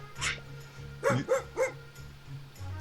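Dog barking in the PizzaBusiness video game: three short, loud barks in quick succession, with a faint yip at the start and a low game hum underneath.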